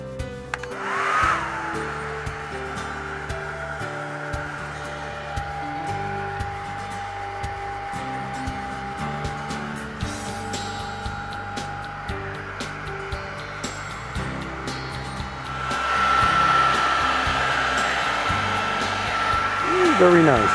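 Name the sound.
hair dryer drying paint weathering on model locomotive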